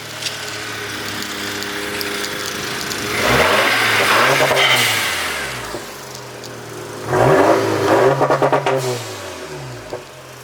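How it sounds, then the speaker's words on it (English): A car engine on a cold start revving twice from idle, each rev climbing sharply in pitch then falling back, with a steady idle hum between. "a few revs on the cold start"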